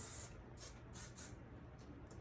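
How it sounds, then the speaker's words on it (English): Short, faint hissing bursts of hairspray, several quick puffs in a row against a quiet background. "then you want to hold it there and then you want to spray it"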